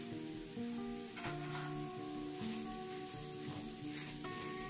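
Garam masala and spices roast in hot oil with a steady soft sizzle and faint crackles, gentle and continuous under a quiet background tone.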